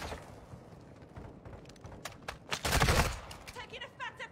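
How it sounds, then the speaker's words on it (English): Gunfire in Call of Duty: Modern Warfare II, a burst of rapid automatic shots peaking in the middle with scattered cracks around it, fairly faint, with a player talking nearby. "Taking effective fire!"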